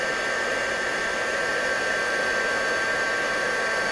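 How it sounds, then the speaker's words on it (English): A heat tool blows hot air over embossing powder on a craft die backing, giving a steady, loud, unbroken whoosh that lasts throughout with no voices. "we'll just hit it with a heat tool. Give it a quick emboss."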